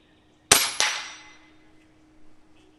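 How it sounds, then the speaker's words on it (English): An Umarex Gauntlet 2 .30 caliber air rifle fires two sharp, loud shots in quick succession, each a close crack with a brief metallic ring trailing off into quiet. "I'll shoot a couple shots just so you guys can see what I'm saying."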